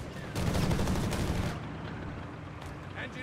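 Bursts of gunfire from a Company of Heroes 3 battle, a match of the Afrika Korps against US forces: dense rattling volleys for about a second, then fainter scattered shots under a faint voice.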